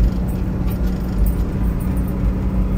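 A 1979 Ford Bronco rolls steadily down the road, its low engine rumble and road noise holding an even, continuous drone close by, with faint voice traces underneath.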